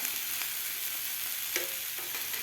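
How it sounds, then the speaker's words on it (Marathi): Semolina uttapam frying on a pan over medium heat gives a steady, close sizzle with a few soft scraping touches, and no voices. "मिडियम गॅसवरच आपल्याला हे उथाप्पा भाजून घ्यायचा"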